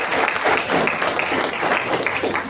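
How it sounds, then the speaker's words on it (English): Audience applause at a defence-sector talk: a sustained, fairly loud wash of many hands clapping, steady and even throughout with no voices over it. "I think we should give a big round of applause."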